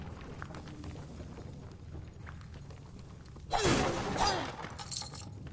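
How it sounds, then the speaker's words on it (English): Objects shatter and break in a video game, a loud crash of smashing stuff rising sharply out of low background game noise, followed by a second burst of breaking debris. "I'm not done smashing stuff yet. I like smashing stuff in games."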